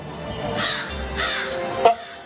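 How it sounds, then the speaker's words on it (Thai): A crow caws a few times, loud and close, with a sharp final call near the end, played during a cosplay stage performance at a Thai convention, with no talking. "อีกาอย่างนั้นเหรอ"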